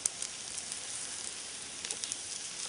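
Vegetables and courgette sizzle on a hot plancha, a dense, steady crackling hiss heard up close with occasional louder pops.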